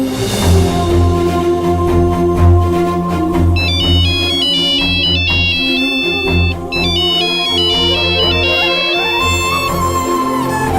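A loud electronic phone ringtone, an unanswered call, plays a repeating melodic pattern over steady background music, sustained throughout with no talking.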